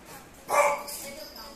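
A pet dog lets out a short, sharp bark indoors at a passing car, one quick yelp over a quiet room, with a person's voice faintly present.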